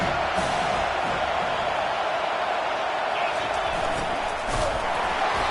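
Stadium crowd at a football game, a constant loud roar of many voices with scattered cheers and whoops, no breaks across the span.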